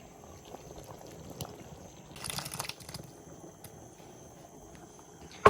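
Plantain pieces are dropped into a large pot of soup seasoned with fresh thyme, a short splashy clatter of pieces hitting liquid over a quiet background, with a faint bubbling underneath.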